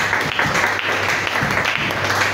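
A church congregation applauds steadily, with dense, continuous clapping from many hands filling the room for a couple of seconds.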